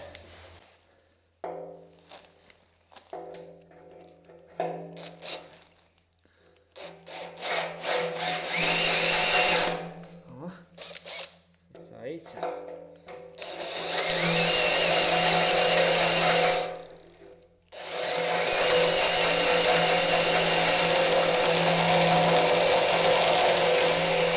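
A power drill with a hole saw crown bit cuts into metal while building a heat storage tank, in bursts of whining grinding separated by pauses with clicks and handling noises, ending in long sustained cutting runs.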